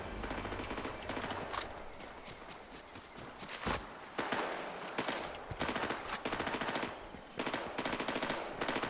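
Bursts of rapid gunfire crackle repeatedly at moderate distance in Fortnite, separated by brief pauses, with scattered single shots and a muffled shuffling background.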